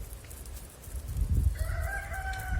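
A rooster crows once, a clear rising call in the middle distance that starts partway through, over a low background rumble.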